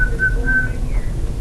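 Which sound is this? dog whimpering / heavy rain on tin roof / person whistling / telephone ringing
person whistling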